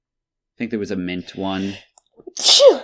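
A single close, sharp human sneeze after a stretch of casual podcast talk, coming right at the end of the speech.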